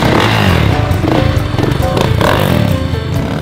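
Honda CRF 450 three-wheeler with its engine running loud and close, a steady rough drone with rapid throttle blips and clattering thumps throughout.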